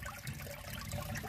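Water from a spring-fed waterfall at a forest shrine in Jharkhand runs steadily in a close, continuous rushing wash. No voices are heard.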